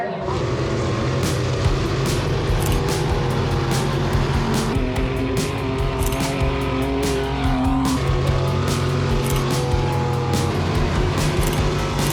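Off-road race vehicles at a Pro Light championship event roar past, engines revving and rising and falling in pitch with sharp bursts, loud and continuous over a noisy outdoor track.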